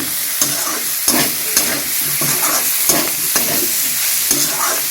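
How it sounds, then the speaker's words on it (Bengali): Tomatoes and mixed vegetables sizzle steadily in a pan while a spoon stirs them in regular scraping strokes, loud and close, with no talking. "নেড়ে দিয়ে সবজিটা মিনিট দুয়েকের মতো নেড়ে নিয়ে"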